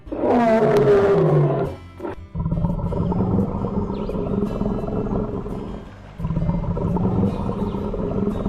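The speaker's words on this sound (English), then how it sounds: "Lion." A lion gives a loud, deep roar up close, followed after a short break by a long, steady growling rumble that carries on alone for several seconds.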